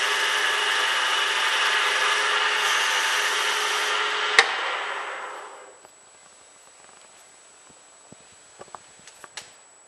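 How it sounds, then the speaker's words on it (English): Dry cloth wiping oil off a timber surface, a close, steady rubbing hiss that fades out after about five seconds, leaving near silence broken by a few faint taps. "I'm going to use a dry piece of the cloth to take as much of that oil back off the surface as I can"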